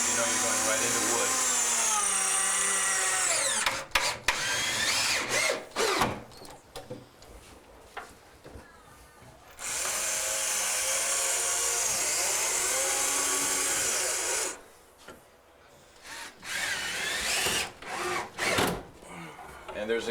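A power drill whines in repeated bursts as it drives screws through a bungalow wall into the studs, with long sustained runs and short pulses, close and loud, while a person talks between them.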